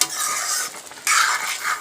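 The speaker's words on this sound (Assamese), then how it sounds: "পানী দি আকৌ অকণমান লৰাই দিব।" A spoon scrapes and stirs pumpkin curry with chickpeas in a wok with a little water, two short bursts of stirring over a soft simmering sizzle, close up and without talk.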